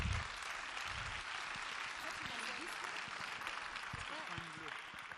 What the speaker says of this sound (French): On peut les applaudir encore une fois très fort